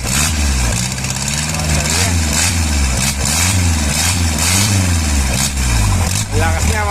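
Isuzu 4BA1 diesel engine running on a test start, a loud close rhythmic chug with rising and falling revs, voices talking over it.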